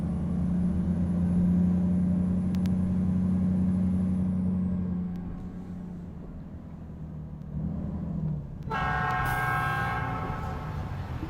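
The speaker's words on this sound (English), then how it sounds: "That train sounds awfully close." A train rumbles past in American Truck Simulator with a deep steady engine drone and a long horn-like tone, fading somewhat before a bright high-pitched burst of overlapping rail tones near the end; no one talks.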